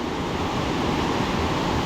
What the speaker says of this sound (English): on the beautiful granite little waterfall